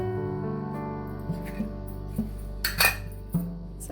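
A spoon stirs a dough of maida, gram flour and salt in a bowl for Kakinada kaja, making soft scraping with a few sharp metallic clinks at irregular intervals, close and fairly quiet.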